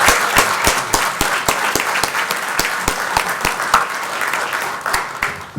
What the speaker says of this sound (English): I'd like to ask for a round of applause for you all